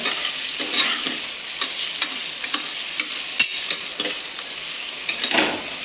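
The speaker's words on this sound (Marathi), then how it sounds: "तर आता मस्तपैकी हलवून घेतो" A spoon stirring khichdi rice as it fries in a pan, with soft irregular scrapes and a steady sizzle close by and no voices.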